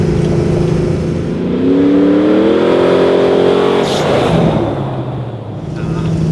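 A Toyota Hilux race truck with a big-capacity LS engine revs up and eases off, loud and close, its rising engine note climbing then settling while a person talks over it.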